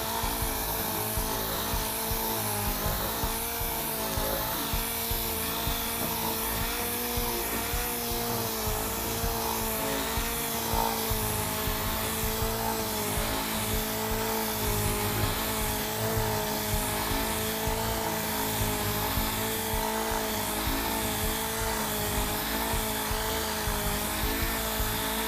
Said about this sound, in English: you're going to go up and down on the edges to make sure again that it's uniformly sanded